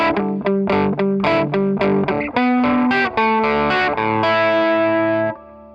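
Distorted electric guitar with chorus plays the intro riff of a song, a steady run of chopped chords that gives way to longer sustained notes before cutting off, loud and close with no talking.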